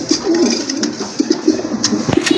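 Archangel pigeons, including a black-gold Archangel, coo repeatedly in low, rounded bursts that sound close and fairly loud, with a few sharper bird sounds scattered through them and no talking.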